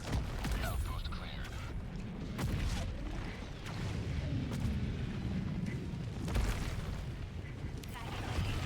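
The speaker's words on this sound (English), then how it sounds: "I think I have a grenade on it." Heavy booming blasts roll through a Helldivers 2 firefight, with sustained rumbling detonations and gunfire-like bursts under a player's voice.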